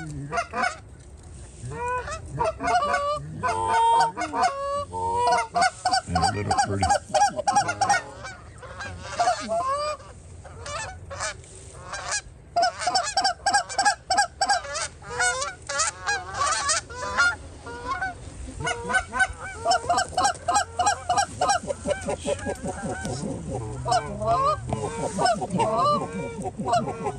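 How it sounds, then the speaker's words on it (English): A flock of Canada geese honking during a goose hunt, dense overlapping honks and calls in fast rhythmic bursts that carry on for the whole stretch, loud and close. "that's a big goose"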